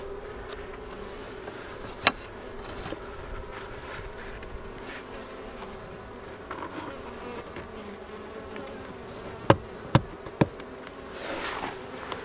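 Honey bees buzz steadily around a hive entrance, a continuous droning hum close by, with a few sharp knocks and taps from work on the entrance reducer.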